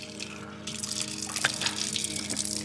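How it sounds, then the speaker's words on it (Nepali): Cold water pouring from a village water spout at Pothana on the Mardi Himal trek in Nepal's Annapurna range, a steady gushing flow close by with brief splashy accents. "यहाँ अब धाराको पानी खाइदिउँ न है"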